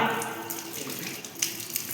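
Running water pours steadily from a tap and splashes into a basin during the Islamic ritual ablution (wudu), a continuous close wash with a few brief splashes near the end and no talk over it.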